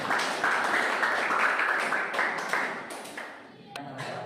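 Students in a classroom clapping together in dense, continuous applause for a few seconds, fairly close and moderately loud, tapering off near the end with some voices mixed in.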